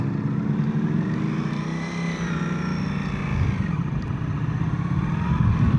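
A 2025 Ducati Panigale V4 with an aftermarket exhaust in sport mode pulls away uphill, its engine a steady, smooth drone heard up close, rising slightly in pitch toward the end.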